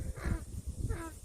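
Two trained crows give short harsh caws, two brief calls about half a second apart, fairly close over a low background hum.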